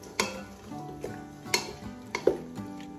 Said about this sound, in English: Start with our beef, tomato mixture, give that a mix